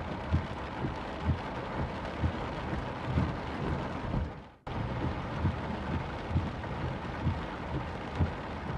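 Heavy rain falls on Pune, a dense continuous roar with a rhythmic series of low thumps beneath it, steady throughout apart from a brief dip and cut midway.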